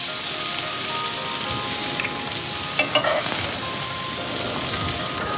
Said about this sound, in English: I'll very gently stir it all in so that everything's mixed through nicely